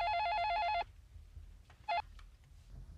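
A telephone rings with a brief electronic trill, a short burst followed by a shorter second one, over a faint low background hum.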